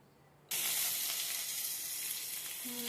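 Oil hits a hot wok and bursts into a loud, bright sizzle half a second in, then holds as a steady hiss with no talk.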